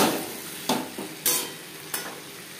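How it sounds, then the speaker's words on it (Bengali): A spoon scrapes and clatters through tomatoes, onions and potatoes in a pan for pangas fish curry, giving three or four sharp strokes over a soft continuous sizzle. "আলুর সাথে বেশ ভালো করে মিক্স করে দেব।"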